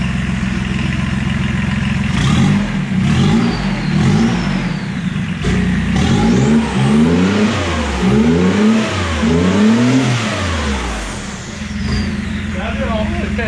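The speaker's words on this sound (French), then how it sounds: "du coup on a un bruit de 3 cylindres qui sort" A TDS bi-turbo diesel engine running on only three cylinders is revved repeatedly, its pitch rising and falling in rhythmic sweeps over a rough, uneven idle, loud and close throughout.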